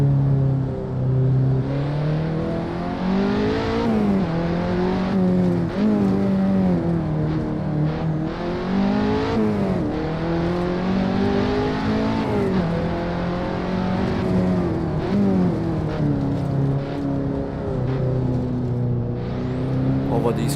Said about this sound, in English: Can really hear the turbocharger.